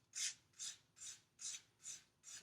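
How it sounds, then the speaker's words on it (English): Six rhythmic rasping strokes of a sanding stick scraping a plastic model kit part, close and steady, each bright scratchy pass separated by a brief pause. "So I would take a sanding stick or some sandpaper"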